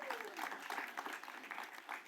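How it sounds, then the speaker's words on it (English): An audience applauds during a political announcement speech in Illinois, a faint, steady wash of clapping lasting about two seconds. "I knew that would get an applause."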